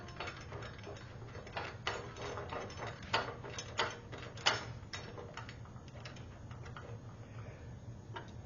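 A part is threaded by hand onto the underside of a Legare CSM table, giving faint, irregular plastic clicks and ratcheting ticks over a quiet background.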